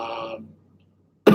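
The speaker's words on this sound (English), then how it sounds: "That's just a dry throat cough." A single dry throat cough or throat-clear breaks out sharply at the very end, after a fading stretch of speech and near silence.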